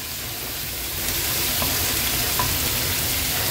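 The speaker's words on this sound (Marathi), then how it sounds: "हार्डली 1 मिनिटासाठी हे आपण असेच पलटून घेणार आहोत तेलावर।" Prawns for butter garlic prawns sizzle in hot oil in a pan, a loud, even frying hiss that swells slightly after the first second and holds steady.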